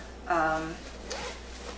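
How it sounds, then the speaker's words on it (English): A zipper on a lightweight Go Light down jacket gives one short, bright zip pull, followed by a fainter rustle of the fabric; no talking during it. "Has a cute little zipper up here"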